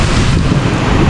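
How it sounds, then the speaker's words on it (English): Heavy rain pours over a village in Kenya, a loud, dense, continuous hiss of drops that fills the short moment. "Yes guys, it's really raining today."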